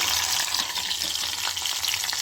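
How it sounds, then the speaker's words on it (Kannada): Hot oil tempering with dried red chillies poured into massoppu, a leafy greens rasam, with the stove flame off, giving a loud, continuous crackling sizzle close up with no voices. "ಈ ಒಗ್ಗರಣೆನ ಸಾರು ಒಳಗಡೆ ಸೇರಿಸ್ಕೊಳ್ತಾ ಇದ್ದೀನಿ"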